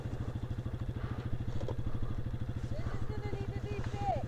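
A KTM 690 motorcycle engine on a muddy trail thumps in a fast, even, low single-cylinder pulse, close and steady, with faint chirps and a voice in the background.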